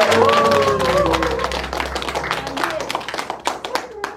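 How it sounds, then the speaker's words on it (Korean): An audience applauds a performer at an autumn accordion and storytelling evening about haenyeo diving, a loud, dense burst of clapping that starts under a brief voice and slowly thins out. "다시 한번 우리 우상인 선생님께 뜨거운 박수 부탁드립니다"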